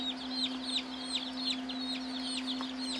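High, short peeping chirps repeat rapidly from several chicks, with a steady low hum running underneath throughout.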